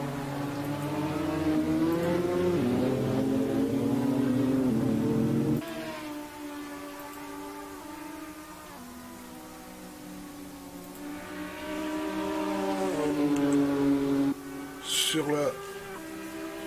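GT4 America race cars run on a circuit, engines droning and shifting pitch as they pass, loud at first, then quieter and building again, with a commentator speaking over them.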